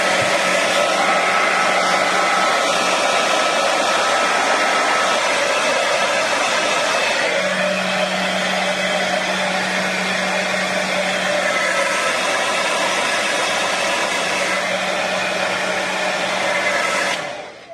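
Hair dryer blowing steadily up close to dry gloss spray paint on a craft project, a loud continuous whoosh with a shifting motor hum that runs unbroken for about seventeen seconds before cutting off.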